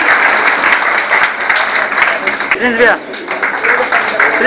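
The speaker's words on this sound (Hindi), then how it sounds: "मिलकर एक बार जोरदार ताली बजा के हम स्वागत करें।" Audience applause greets a guest on stage at a Chanakya Jayanti gathering of the Brahmin community in Siwan, a loud steady clapping crowd filling the whole clip while someone speaks over it through a microphone.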